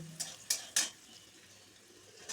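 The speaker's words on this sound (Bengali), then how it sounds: "লবণ দিয়ে উচ্ছেটাকে লাল লাল করে ভেজে নিতে হবে" Bitter gourd fried with salt in a pan gives off a faint, low sizzle, broken early by three sharp scrapes of a spatula, then settles into a quiet simmering hiss.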